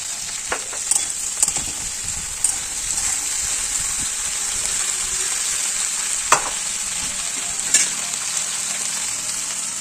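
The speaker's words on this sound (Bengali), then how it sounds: "এবার ভালো করে হলুদটা আর নুনটা সবজির সঙ্গে মিক্স করে নিচ্ছি।" Mixed vegetables for a Bengali mustard-poppy seed curry are stirred with turmeric and salt in a hot pan. A steady sizzle hisses throughout, broken by occasional scraping clicks of the spatula, with no talk.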